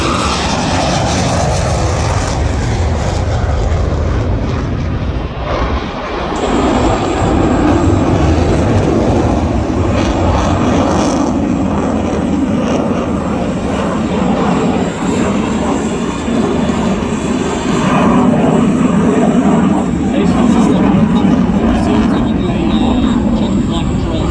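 An RAAF F/A-18 Classic Hornet jet takes off at an air show, its engines roaring loud and continuous for the whole stretch as it climbs away, with a commentator talking over the noise.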